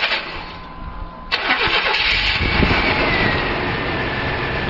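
A 1990 Chevrolet Blazer with over 200,000 miles cranks over with a sharp catch, then settles into a loud, steady low idle close by, with no talking.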